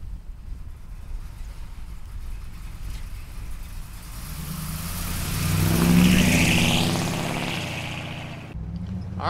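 A 1954 Chevrolet pickup truck engine driving by, a mid-pitched engine hum that swells loudly as the truck passes close with rushing wind, then fades away.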